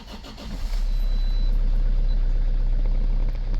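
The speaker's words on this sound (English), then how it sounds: "Now push the brake and start the engine." Engine of a Toyota with a semi-automatic gearbox cranks and catches, then settles into a loud, steady low idle rumble close by.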